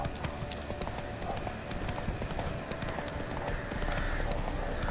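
Horse hooves clip-clopping at pace in The Witcher video game, a steady busy patter of hoofbeats under a constant layer of game ambience, with no talk over it.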